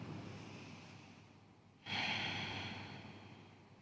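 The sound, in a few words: breathing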